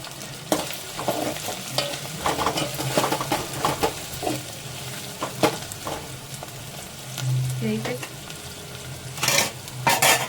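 Coriander leaves fry in hot oil in a pan while being stirred, a soft crackling sizzle broken by scraping spoon strokes and clinks of utensil against metal, close and fairly steady.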